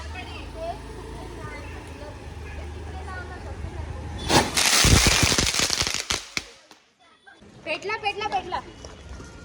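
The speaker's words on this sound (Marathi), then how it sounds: "फटाके" Several sharp firecracker bangs burst in quick succession, loud and close, during Bhau Beej Diwali celebrations, after a stretch of outdoor background noise, with a voice talking near the end.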